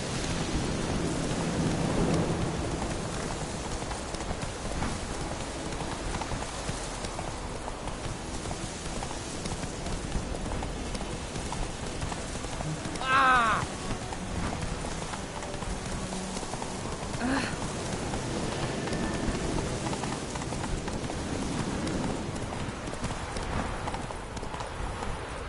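Hoofbeats of Roach the horse galloping in The Witcher 3: Wild Hunt, a steady drumming of hooves under a constant wash of rain-like ambient noise, with a brief higher cry partway through.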